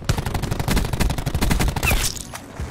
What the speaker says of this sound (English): take out the Maddox. Okay, you're gonna see how easy it is to control your recoil.